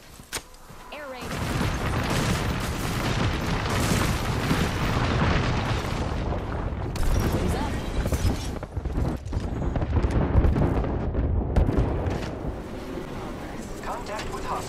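Air raid explosions in a video game, a continuous loud barrage of booms and rumbling blasts layered with gusty, wind-like noise, with brief game voices mixed in.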